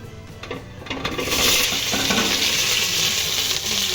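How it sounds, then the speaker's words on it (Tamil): After a few soft clinks, a loud burst of sizzling erupts as chopped vegetables for okra sambar hit hot oil, then keeps hissing steadily. "இப்போது நம்ம நறுக்கி வச்ச காய்கறி சேர்த்துக்கலாம்"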